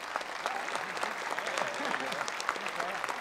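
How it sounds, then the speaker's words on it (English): Steady audience applause rises from a large conference crowd at a marketing talk, even and continuous, with a few voices faintly audible within it. "Give Steve a round of applause."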